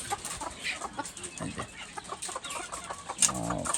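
Local chickens and large roosters on a deshi poultry farm cluck in short irregular bursts, fairly close, with soft background rustle and a brief louder call near the end.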